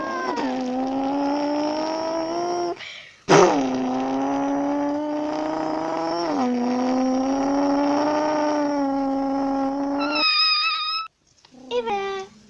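Car engine and tire skid in the video game My Rock Life, a loud sustained tonal whine that rises and shifts pitch with a brief gap, then a higher squeal near the end.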